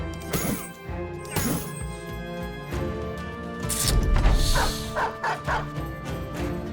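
A dog barks and yips repeatedly in a video game, with sharp, loud barks mixed with smashing and thwacking combat impacts and a busy, clattering game backdrop.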